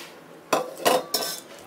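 Fried green plantains lifted one after another into a metal bowl, giving three quick, close metallic scrapes and clinks of a utensil against the bowl, with no talking.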